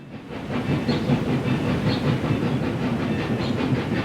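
Trains race along railway tracks with a steady, loud rumble, rhythmic clickety-clack and a constant hiss, sustained and close throughout with no voices.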